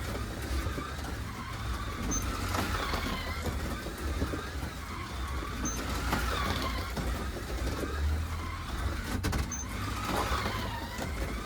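Scalextric slot car lapping a track with an S bend, its steady electric motor whine running continuously, rising and falling in faint surges as it passes, with no talking.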